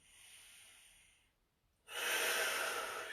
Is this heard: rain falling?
no